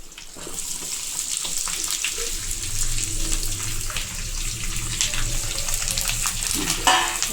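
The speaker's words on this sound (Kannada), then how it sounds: "ಕರಿಬೇವು ಪಟ ಪಟ ಪಟ ಅನ್ನತ್ತಲ್ಲ, ಅದನ್ನು ನೀಟಾಗಿ ಆಯಿಲಲ್ಲೇ ಫ್ರೈ ಮಾಡ್ಕೋಬೇಕು. ಹಸಿಮೆಣಸಿನ್ಕಾಯಿ, ಈರುಳ್ಳಿ ಎರಡೂ ಒಟ್ಟಿಗೆ ಹಾಕ್ಕೋಬೇಕು" Curry leaves, green chilies and onion frying together in hot oil, a steady close sizzle with crackling pops and occasional stirring scrapes.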